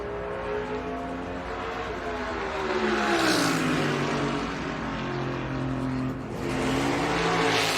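NASCAR Cup race car at the 2022 Toyota Owners 400 qualifying, engine droning steadily through a lap with shifting pitch as it passes, loud and continuous with no talk.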